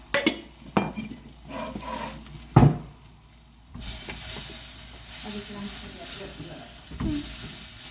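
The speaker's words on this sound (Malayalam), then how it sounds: "എന്നിട്ട് നമ്മൾ ഒന്നുകൂടെ ഇളക്കാം" Fish curry being stirred in a sizzling pan, with sharp scrapes and knocks of a spoon early on, then a steadier frying hiss and stirring, close by.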